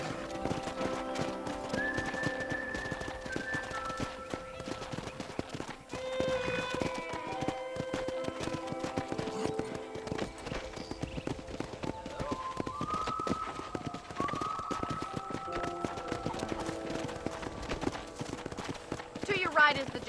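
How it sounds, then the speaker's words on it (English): Horse hooves clip-clopping at a steady ridden gait in Red Dead Redemption, with a neigh or two, under continuous talk and background music across a ranch tour. "let's see if you can still ride a horse"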